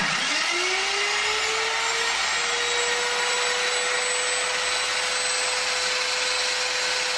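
A circular saw cuts through a school desk in a classroom, a steady whining spin-up settling into a sustained high-pitched drone at moderate distance with no talking over it.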